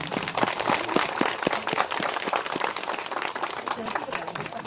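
Outdoor crowd applause for the head monk at a Buddhist mountain-spirit ceremony at Myobongam hermitage on Palgongsan, with scattered claps rattling steadily throughout while a voice carries on over it.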